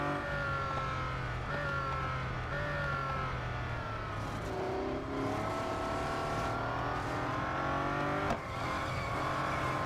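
A racing car engine in the mobile game Real Racing 3 drones steadily at high revs, pitch shifting up and down through gear changes over about ten seconds, close and continuous with no voices.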